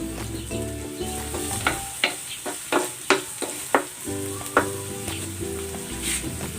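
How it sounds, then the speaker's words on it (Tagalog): Onion and garlic sauté in oil in a pan for a chicken and vegetable stir fry, giving a steady close sizzle broken by a run of sharp stirring clicks and scrapes, with no talking. "Igisa natin itong sibuyas. Ilagay na rin natin itong bawang."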